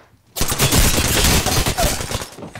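Loud, close automatic gunfire in the battle royale game Apex Legends breaks out after a brief quiet moment, a dense rattle of rapid shots lasting about two seconds before fading.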